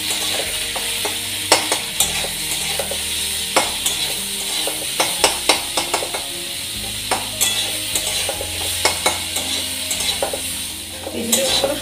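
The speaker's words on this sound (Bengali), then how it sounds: "আর দিয়ে দিচ্ছি হলুদ গুঁড়ো, মিডিয়াম ফ্লেমে রেখে ফ্রাই করে নিচ্ছি।" Vegetables with salt and turmeric powder frying over a medium flame, a steady sizzle broken by frequent sharp scrapes and clinks of a spatula stirring against the pan, close and fairly loud.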